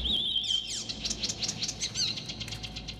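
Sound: birds chirping in a video game (Assassin's Creed Chronicles: China)

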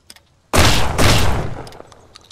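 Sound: machine gun fire in video game Mist Survival

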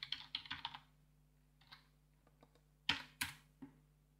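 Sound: typing a command on a computer keyboard

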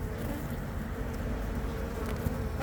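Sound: buzzing of Korean native honeybees at hive

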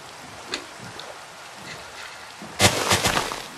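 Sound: rain in a video game

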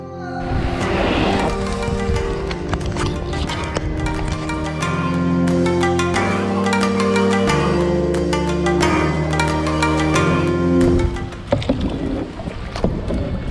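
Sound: kayak being paddled on water

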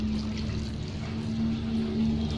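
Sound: water poured onto homemade compost

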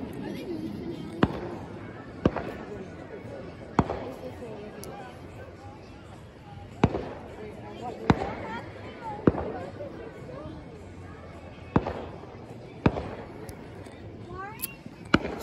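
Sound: fireworks exploding

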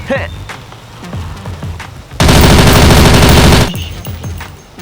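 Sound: gunfire from a gun being test-fired

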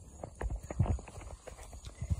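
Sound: horse walking, hooves clip-clopping at a barn

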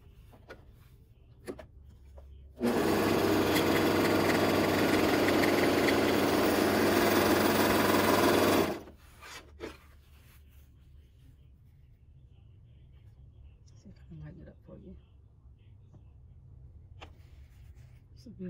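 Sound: Bernette 64 airlock serger sewing two fabric pieces together

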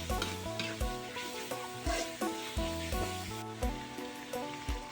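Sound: pork cartilage stir-fried with curry paste, sizzling

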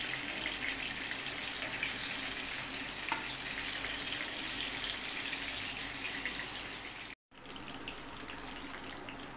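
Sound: gilki (sponge gourd) frying in oil

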